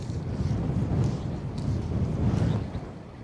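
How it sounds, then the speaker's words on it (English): Gusty wind buffets the microphone at a riverside spring salmon fishing spot, a steady low rumbling roar that swells and eases in gusts, with no voices present. "It's quite breezy, so casting into it's, you know, not great fun"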